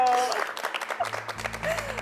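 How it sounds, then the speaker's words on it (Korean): A church youth audience applauds a young girl who has just finished speaking, with a short burst of clapping as tonal sounds and voices join partway through. "여러분 박수 한번 주시죠"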